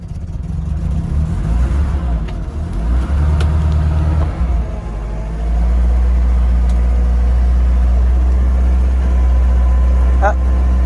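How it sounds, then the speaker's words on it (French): A Lada Niva idles with a steady low engine drone, a clutch release bearing noise running under it; the engine note rises and settles after a few seconds, with faint clicks and someone talking over the first half. "vous pouvez entendre qu'il y a un bruit de butée d'embrayage"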